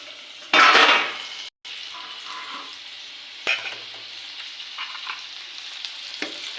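Okra (bhindi) sizzling in a pan, with a loud burst of frying at first, then quieter crackle as the lid comes off and a spatula stirs and scrapes the pieces with occasional metallic clinks.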